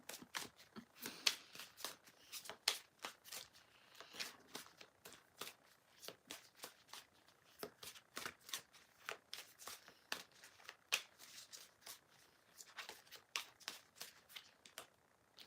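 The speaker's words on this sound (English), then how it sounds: "Oh look, I've shuffled those cards, and look what comes back out again." Tarot cards shuffled by hand in a rapid, steady run of crisp riffling snaps and soft slides that continue for the whole stretch, close and fairly quiet, with no talking.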